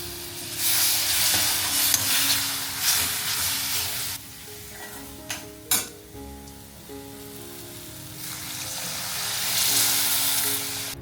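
Kokum agal splashes into a simmering mackerel fish curry and sets off a loud, steady sizzle that swells at the start, dips in the middle with a couple of sharp pops, then rises again.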